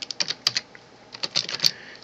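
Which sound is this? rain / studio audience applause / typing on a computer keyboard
typing on a computer keyboard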